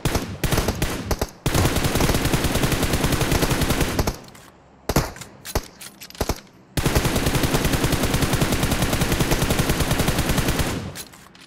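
Rapid, loud automatic gunfire from PUBG Mobile rattles in sustained bursts, broken by brief pauses and a few single shots, close and dominant with no talk over it.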